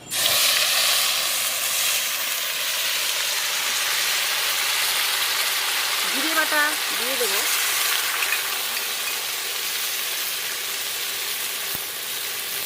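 Onion paste hits hot oil in a pan while fish is cooked in a home kitchen, and a loud, steady, close sizzle and hiss holds through the whole stretch. A brief voice sounds faintly partway through.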